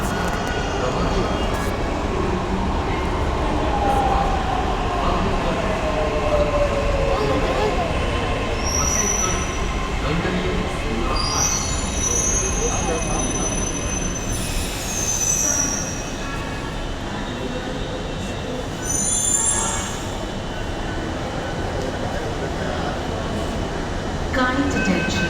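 A Mumbai metro train running with steady loud rumble of wheels on rail throughout, high wheel squeals and screeches rising briefly several times over the continuous rolling noise.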